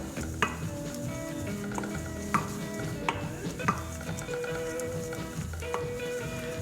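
Dry cobbler ingredients stirred together in a bowl, a steady scraping swirl with occasional sharp clinks of utensil against the bowl, close and continuous, no voices.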